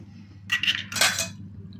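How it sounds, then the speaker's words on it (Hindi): Egg cracked against a bowl in a home kitchen while making an omelette: a couple of sharp taps and clinks, close and fairly quiet, over a low steady hum. "ह्याच्यामध्ये मी अंडा फोडून घेते"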